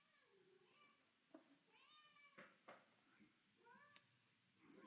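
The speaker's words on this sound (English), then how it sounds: "Apologies if you can hear my cat in the background." A house cat meows repeatedly in the background of a quiet room, several drawn-out, rising and falling cries spaced over a few seconds with no talk over them.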